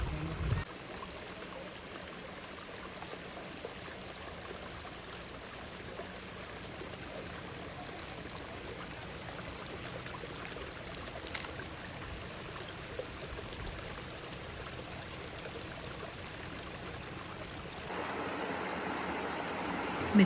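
Water spilling over a stream blocked with debris, a soft continuous rushing wash at low level, steady from start to finish with a slight rise toward the end.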